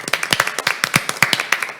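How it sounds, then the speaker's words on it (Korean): A small audience at a Korean education policy forum claps to welcome a panel speaker, with brisk, uneven hand claps that come close together and stay fairly near and moderately loud. "박수로 맞아주시기 바랍니다"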